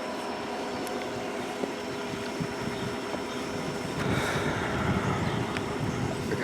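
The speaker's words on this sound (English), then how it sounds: "There's the train." A CN freight train approaches in the distance near Emmett, Michigan, as a low, rumbling drone that grows somewhat louder toward the end.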